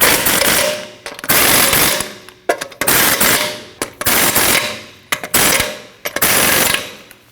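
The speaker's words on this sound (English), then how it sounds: "Now tighten down all your lug nuts." Bursts of a pneumatic impact wrench tightening lug nuts on a Nissan NV2500 van wheel, loud and close, firing in several rapid rattling runs of about a second each with brief gaps between.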